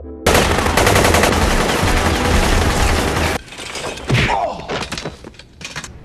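Movie gunfire rattles loud and dense, sustained automatic shots filling the first three seconds before dropping to scattered impacts and rumble.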